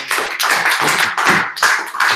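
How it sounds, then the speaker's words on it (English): A meetup audience gives a round of applause, loud close clapping in several bursts with brief dips between them and no speech. "Let's give it a round of applause."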